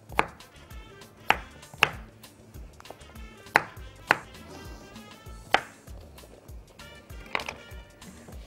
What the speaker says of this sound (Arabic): ونقطع برضو البتنجان مكعبات برضو زي البطاطس كده ما عملناها